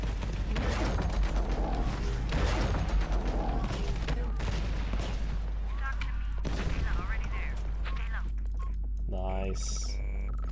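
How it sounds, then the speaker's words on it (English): Ion cannon effects fire in the Tiberian Sun real-time strategy game amid dense battle sounds, rapid crackling bursts and booms packed tightly together at constant loudness, with a voice talking over the action. "Nice ion cannon effects going off."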